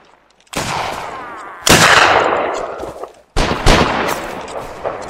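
Gunfire rings out in Mount & Blade during an Anglo-Boer War roleplay battle, three loud, close volleys of rifle shots, each with a rumbling decay that carries into the next.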